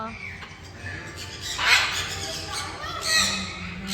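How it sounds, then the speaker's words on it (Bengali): A few harsh bird squawks ring out over a busy outdoor background with faint murmuring. "কত পাখি"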